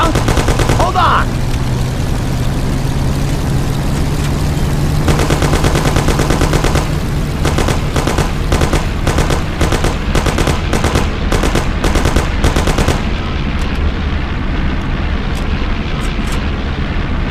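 Automatic gunfire in the video game Mafia: The City of Lost Heaven, bursts crackling in rapid volleys over a steady engine drone during a car chase, with shouting voices.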